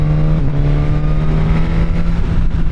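A Suzuki GSX-S1000 motorcycle engine running without a dB killer while riding, a loud steady drone with a strong low hum and slight rises in pitch, close and unbroken for the whole stretch.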